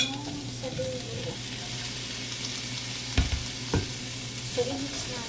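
Asparagus and shrimp stir-fried in a pan give a steady close sizzle, with a couple of distinct utensil knocks and scraping stirs partway through and no talking.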